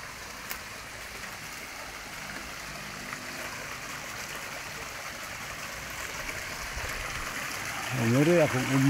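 Water flows across a road in barangay Guba after typhoons Tino and Uwan, a steady rushing wash that continues throughout, with a person speaking briefly near the end.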